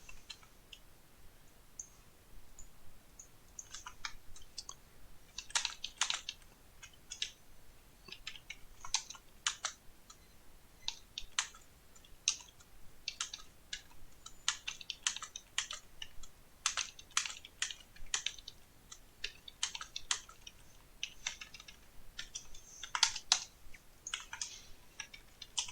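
Fast, irregular typing on a computer keyboard during data entry and formatting work, with clusters of crisp key clicks and brief pauses, close and fairly quiet, with no voices.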